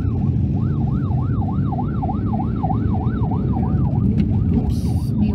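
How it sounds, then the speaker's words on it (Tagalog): An emergency vehicle siren wails loudly and close by, in a regular rising-and-falling cycle about twice a second, over the steady rumble of traffic. "Oops. May wangwang."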